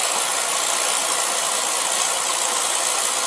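A Beckett oil burner runs with a dense, steady roar and a constant rattling vibration, loud and close with no talk over it.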